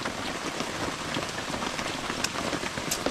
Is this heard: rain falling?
yes